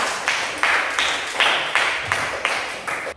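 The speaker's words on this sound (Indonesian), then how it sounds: "tepuk tangan buat kelompok 3." A group claps in a steady, rhythmic beat, like a classroom applauding together, with even repeated claps and no talking.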